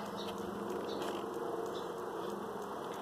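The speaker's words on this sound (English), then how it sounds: "Here's some bees that were on the lid." Bees on a hive lid in winter buzz in a soft, continuous drone with faint flickers of wingbeat, close by and fairly quiet, with no voices.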